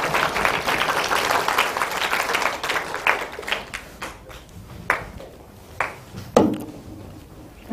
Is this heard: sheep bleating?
no